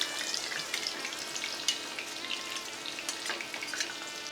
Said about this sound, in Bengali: তেল গরম হলে তাতে ঢেলে দিন আগে থেকে তৈরি করে রাখা মশলার মিশ্রণ।